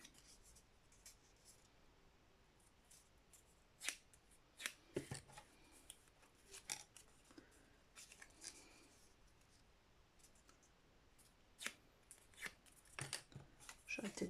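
Scissors cutting small fabric circles for a sewn accordion storage pouch, with faint scattered snips and rustles close by against a quiet background.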